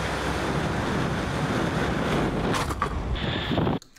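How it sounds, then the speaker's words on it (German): Strong wind buffets the microphone over pounding surf on the Vancouver Island coast, a loud, steady roar that continues for several seconds before cutting off abruptly near the end. "Es war einfach viel zu windig, es gab viel zu viele Wellen und die Brandung war einfach zu hart"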